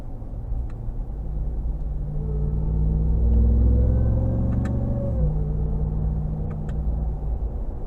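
The supercharged engine of a 2022 Ram TRX pulls hard under acceleration, a deep rumble with a rising supercharger whine that builds, drops briefly at a gear change, then climbs again, heard from inside the cabin.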